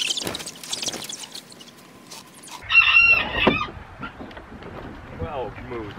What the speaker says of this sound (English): Well, Moose, what kind of crow is that, man?